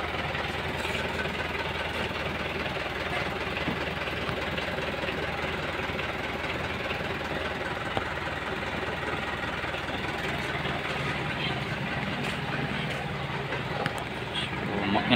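A cab chassis truck's 4032 diesel engine idles with a steady, knocking mechanical rumble, close and continuous, while people talk faintly nearby.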